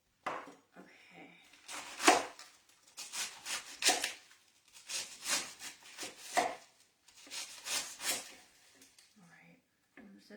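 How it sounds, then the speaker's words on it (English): A knife cuts through a large head of cabbage, producing crunchy, tearing slicing sounds in clusters separated by brief quiet gaps, up close. "So let me chop up this intimidating cabbage."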